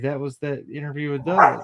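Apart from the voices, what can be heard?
dog barking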